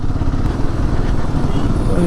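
A motorcycle engine drones steadily as the bike climbs an off-road hill on the way to Bolumalai fort, a continuous loud rumble throughout with a voice talking over it.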